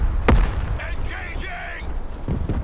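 Gunfire and explosions in the video game Broken Arrow: a sharp loud blast at the start, then rumbling combat sounds with shouted voices over the top.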